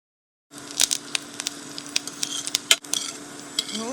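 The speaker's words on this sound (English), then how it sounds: "Oh, that was a good sizzle." Food sizzles and crackles in a hot pan, with sharp pops and spatters over a steady frying hiss, starting abruptly after a short silence.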